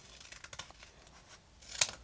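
Scissors snip through vinyl sheet while a split tumbler design is being crafted, a few soft, faint cuts followed by one sharper, louder snip near the end, with no voices.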